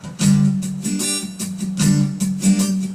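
An acoustic guitar strums the chords of a song in a rhythmic pattern, ringing chords broken up by percussive muted strokes, close and unaccompanied.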